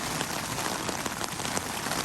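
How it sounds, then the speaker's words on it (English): Steady rain drums on a tent pitched at high elevation away from trees, a dense continuous patter with scattered louder drops, close and alone with no voices. "And obviously now it's raining."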